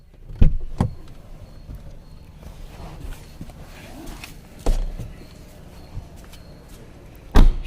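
BMW 320d car doors shut with solid, heavy thuds, three distinct slams spaced over several seconds, heard close against quiet background rustle.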